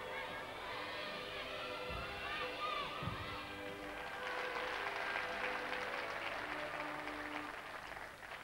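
Faint applause from the crowd at a 1991 Italy–Romania gymnastics competition in Viareggio, building into steadier clapping midway, with a commentator talking over it and a couple of low thumps early on.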